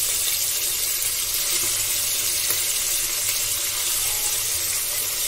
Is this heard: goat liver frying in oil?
yes